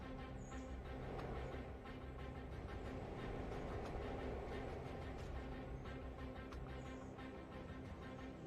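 A railway wagon is shunted out, giving a quiet, steady low rumble with faint regular rhythmic clicks running through it.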